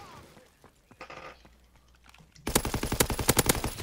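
Video-game machine gun firing a rapid, loud, evenly spaced burst, preceded by quieter scattered shots and chatter, with players talking.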